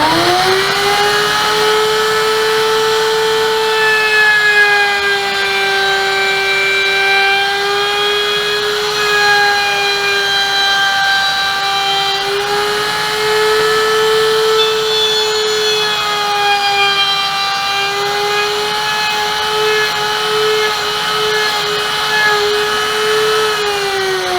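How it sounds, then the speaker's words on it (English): Router on a shop-built router table cutting wood from right to left, a steady high-pitched whine with strong harmonics held at a constant level throughout, close and loud, with no speech. "So we're going to turn that on, let it get up to speed, and go from right to left and do a little bit of routering."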